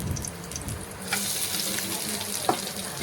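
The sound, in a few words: garlic and chopped onion frying in a pan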